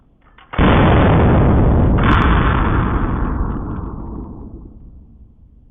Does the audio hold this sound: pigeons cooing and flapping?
no